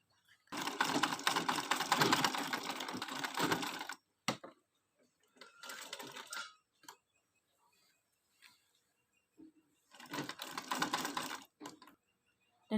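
A sewing machine stitches along the fold of a blouse in bursts: a long run of rapid stitching, then shorter runs separated by pauses, near and fairly loud, with no talking.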